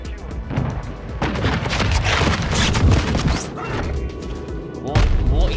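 AK rifle fire in the Modern Warfare 2 shooter game, with dense, loud bursts of shots and impacts crowding together over several seconds while a person talks over the action.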